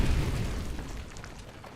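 A deep explosion blowing down a large building in Fallout New Vegas, a heavy boom at the start that rumbles and fades away over under two seconds, loud and alone.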